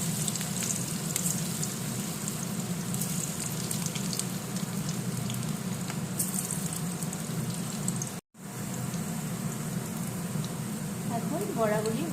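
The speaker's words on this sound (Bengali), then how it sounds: "এখন একে একে বড়াগুলি ভেজে নেব" Fritters (bora) frying one by one in a kadai of hot oil, a steady broad sizzle that runs throughout with brief crackles and one sharp momentary dropout.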